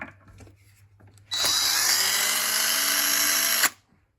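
A power drill whirs loudly and steadily for about two seconds while building a cigar box guitar, then cuts off abruptly, with a low hum in the background beforehand.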